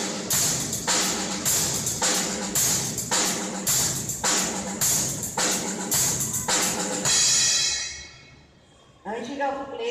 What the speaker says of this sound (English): So now I'll play the right hand on the hi-hats and left hand on the snare.